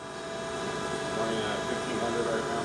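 A 2008 Hyundai-Kia VX500 vertical machining center with FANUC control runs its spindle at 1500 RPM, giving a steady, loud mechanical hum and whir that holds constant throughout.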